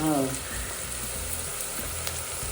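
Onion tempering fries and sizzles in a pan while being stirred, a close continuous hiss with soft scraping, and a brief voice at the very start.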